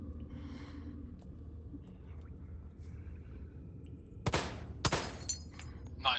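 Pistol shots at a shooting range in the VR game I Expect You to Die: quiet room ambience, then three or four sharp, close gunshots in quick succession near the end.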